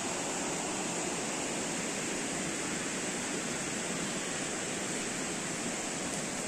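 A river rushes steadily, a dense, even roar of flowing water that fills the whole stretch without letup, moderately loud and with no voices over it.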